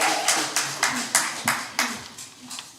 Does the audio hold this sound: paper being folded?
no